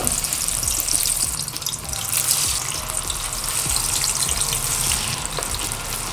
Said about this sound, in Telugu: చక్కగా మనం కాగుతున్న ఆయిల్లో వేసుకొని ఫ్రై చేసుకుందాం